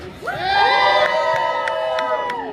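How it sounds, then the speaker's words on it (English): A crowd cheers and whoops loudly for a barbershop quartet at Magic Kingdom, with shrill children's voices and excited shouts rising together in one sustained burst. "So cheer loudly and a lot."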